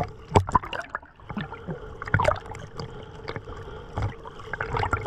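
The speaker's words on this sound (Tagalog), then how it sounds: "Biglang lumakas yung hangin at alon" Small boat heading home across the sea in suddenly strong wind and rising waves, with irregular splashes and slaps of water against the hull and a steady rush of wind, fairly close.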